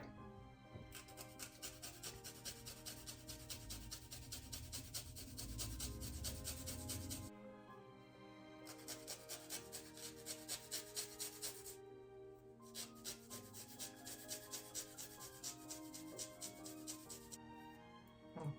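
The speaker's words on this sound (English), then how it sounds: "Gonna grate my garlic." Garlic is grated by hand for a homemade Italian tomato sauce, producing soft repeated scraping rasps in quick rhythmic strokes with a few brief pauses, heard close up.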